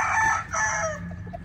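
Young Sweater-line fighting rooster in a flight pen crowing once, a short near and fairly loud hoarse call with no talk over it.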